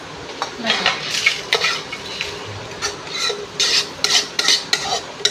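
Tamarind frying in a pan for Mangalore chicken sukka, with loud scraping and clinking strokes of a metal spoon stirring against the pan in irregular bursts over a faint sizzle.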